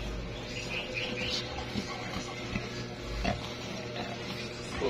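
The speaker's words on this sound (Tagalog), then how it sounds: "Sarap na sarap si baboy." A pig grunts and snuffles steadily while eating, close by, in a continuous low chewing and rooting texture with no talk.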